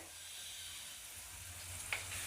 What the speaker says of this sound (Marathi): त्यानंतर सात आठ पाकळ्या कढीपत्त्याच्या ॲड करायच्या आहेत